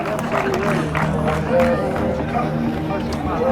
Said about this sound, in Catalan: Bon aplaudiment per aquest trofeu Josep Maria Carrió